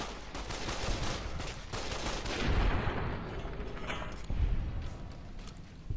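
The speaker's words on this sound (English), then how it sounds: "Man, this heavy machine gun is awesome." Heavy machine gun in Fallout: New Vegas firing in rapid sustained bursts, loud and close, with dense rattling gunfire and brief heavier impacts, no voices.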